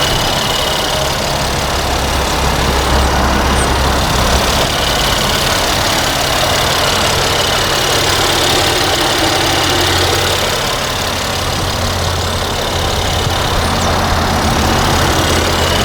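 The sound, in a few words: Mercedes-AMG GLC 43 3-liter bi-turbo V6 engine idling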